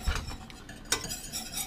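A spoon stirs lemon curd in a pot as it starts to boil, making soft scraping and clinking against the pot, with one sharper knock midway and no voices.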